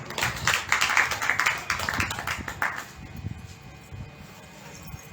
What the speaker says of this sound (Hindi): ताली बजाएंगे सब जन।